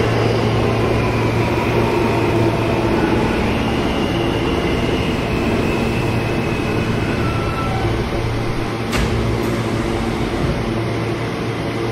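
An R160A G subway train on the IND Crosstown Line in a Roblox game rumbles along with a steady low drone and hum, then a brief sharp click near the end.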